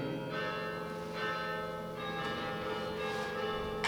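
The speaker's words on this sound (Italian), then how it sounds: "Cioè con l'inizio delle campane?" Church bells ring continuously, their overlapping tones blending into a steady, sustained clang with no voices.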